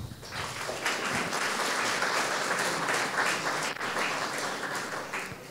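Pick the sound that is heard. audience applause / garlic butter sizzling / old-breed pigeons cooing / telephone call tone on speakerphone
audience applause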